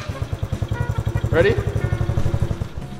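A cheap Amazon quad bike's small engine idles with a rapid, even chugging putter, close and steady, while a person speaks briefly over it.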